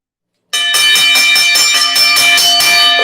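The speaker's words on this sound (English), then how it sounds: "That's the last bell." A bell rung to close a broadcast show starts abruptly after a short silence and keeps clanging loudly in rapid repeated strikes, bright and ringing, with no talking over it.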